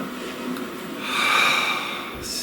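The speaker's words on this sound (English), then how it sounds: "Please take a nice deep breath." A single long, deep breath drawn in close to the microphone, swelling into a loud airy rush in the middle and then easing off.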